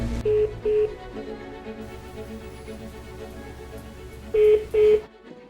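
Touch-tone keypad beeps from a telephone as an office call is transferred and put on hold: two short, clear beeps close together, a long stretch of quiet line noise, then two more beeps.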